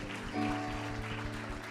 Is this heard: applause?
yes